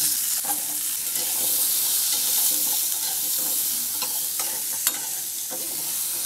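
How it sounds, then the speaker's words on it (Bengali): Potatoes frying in hot oil in a pan after fish has been fried in it, a dense continuous sizzle with scattered crisp pops and scraping stirs, close and alone. "এখন এই একই তেলে আলুগুলো ভেজে নেব।"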